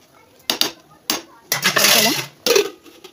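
Metal pot clinks and clatters on a home kitchen stove while rice is put on to cook, several sharp separate knocks followed by a longer scraping rattle, close and fairly loud.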